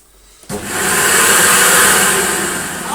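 A brand-new upright vacuum cleaner switches on abruptly after near silence, then runs as a loud, steady whining roar with a bright hiss that holds for the rest of the moment, its hose detached.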